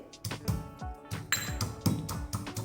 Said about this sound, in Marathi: छानशी अशी कलबत्यात वाटून घ्यायची आहे मिरची आणि लसण